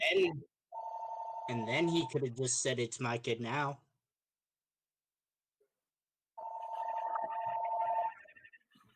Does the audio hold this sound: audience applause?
no